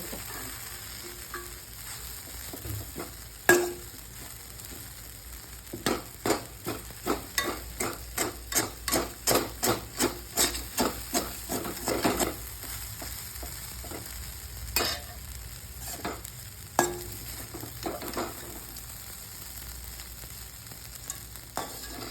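Flour for puli upma being dry-roasted and stirred in a pan: a run of quick, rhythmic scraping strokes with soft sizzle beneath, close and fairly loud, with a few sharper knocks of the spoon.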